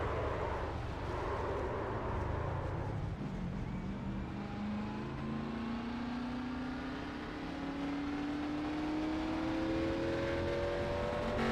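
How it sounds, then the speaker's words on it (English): A damaged engine in the number 88 Scrambler Series race car at Talladega strains as the car pulls away, a droning motor note rising steadily in pitch while other engines hum in the background. "Tell there's engine damage on the 88 of Butler as he went to pull away."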